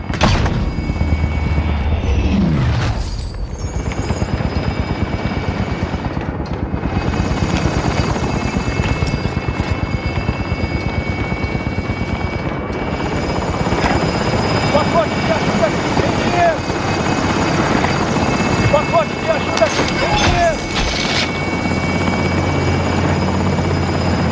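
Helicopter hovering in Call of Duty: Modern Warfare, its rotor a loud continuous drone and churn throughout, with a few heavy booms and mechanical clatter breaking through, near and dominant.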